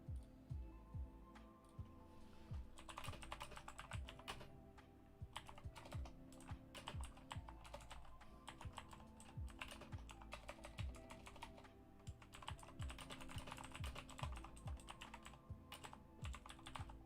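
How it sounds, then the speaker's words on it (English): Faint, steady typing on a computer keyboard: rapid clusters of light key clicks with brief pauses, continuing throughout, close but quiet over a soft room hum. "I was typing in the wrong thing"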